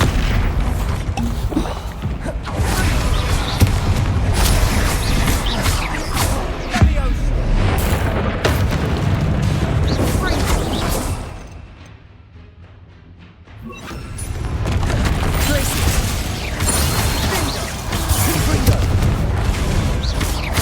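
Repeated Bombarda spell blasts in the Hogwarts Legacy video game, loud booming explosions in dense overlapping bursts that continue for most of the stretch, with a short quieter lull in the middle.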